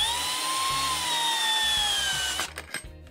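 A power drill drives a longer screw into a stripped screw hole in wood, a close, steady whine lasting over two seconds that stops abruptly and is followed by a few short clicks and knocks.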